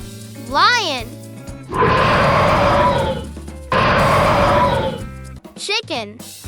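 A lion roars twice in long, loud, rough bursts over a soft music bed, with a voice at the start and end.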